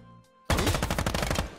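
Rapid gunfire from a Squad video game firearm, a quick burst of sharp, closely spaced shots that erupts after a brief quiet pause and rattles on loudly to the end.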